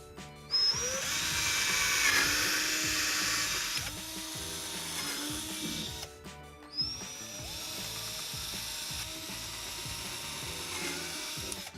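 A power drill whines steadily through two long bursts, drilling holes through a curved bathtub's flange, with a brief pause and a short rev between them.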